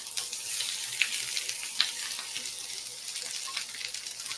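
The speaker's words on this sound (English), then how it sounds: "And we want a little bit of sizzle" Fennel and onions sizzle gently in hot oil in a pan, giving a soft, steady frying crackle with a couple of brief clicks.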